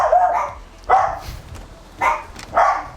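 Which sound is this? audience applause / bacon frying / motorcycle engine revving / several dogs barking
several dogs barking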